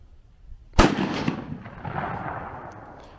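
A single sharp report from a .308 rifle firing a subsonic Hornady Sub-X 190gr load rings out outdoors, followed by a long fading echo rolling away.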